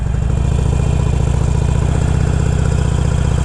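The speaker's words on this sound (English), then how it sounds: "I'm going to go ahead and slowly let off on the clutch, and this time I'm going to give it a little bit of gas" A motorcycle engine chugs loudly and close up as the clutch is slowly let out and a little throttle is applied, a steady low rhythmic thrum without a sharp rev.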